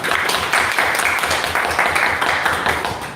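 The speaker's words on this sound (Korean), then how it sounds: "테크노벤처스의 김기준 부대표님 박수를 부탁드리겠습니다." Audience applause at a university startup-education lecture, a loud, dense burst of clapping that stays strong and tapers off slightly at the end.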